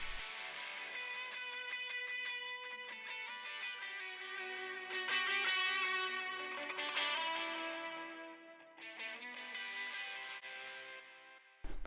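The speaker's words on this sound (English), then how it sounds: "So this is what the effect sounds like on its own first" A Soundtoys Echo Boy dual echo effect playing solo, with an eighth-note repeat on the right side, gives dense, shimmering distorted repeats that sustain continuously, surge in bursts, and cut off abruptly at the end.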